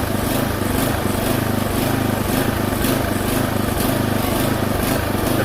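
Small landscaping machine engine running loud and close with a rough, steady putter, its drone swelling and dipping slightly in a surging rhythm, with no talk.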